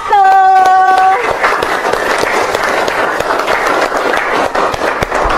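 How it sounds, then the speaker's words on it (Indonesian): A junior high school class claps for a student group, dense, loud applause breaking out after a brief tonal sound and continuing steadily to the end. "Tepuk tangan untuk kelompok 1"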